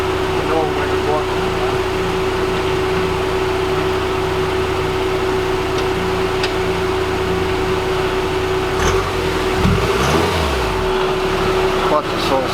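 A SAAB 9-3 with a fresh clutch and refinished flywheel runs steadily on a test drive, its engine hum and a constant tonal drone heard throughout, a few brief bumps and shifts near the end.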